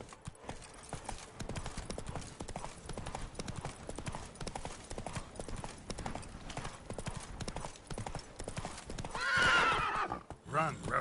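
The horse Roach gallops in Witcher 3 on PS5, drumming a fast, steady run of hoofbeats for several seconds before a loud neigh near the end. A voice speaks over the hoofbeats.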